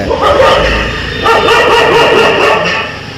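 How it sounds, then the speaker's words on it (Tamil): Many street dogs in a rural area of Pudukkottai district barking loudly and continuously together, with overlapping yelps and whimpers filling the whole stretch, close and dense. "பாருங்கள் எவ்வளோ எவ்வளோ நாய்க்கள் கத்துது"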